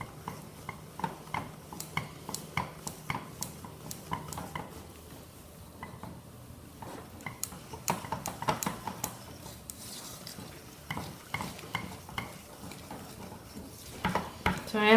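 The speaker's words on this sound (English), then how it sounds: "And again, whisk that in." A fudge mixture is whisked in a pan, giving quick, uneven metallic clicks and scrapes of the whisk against the pan, fairly quiet and close, with no voices.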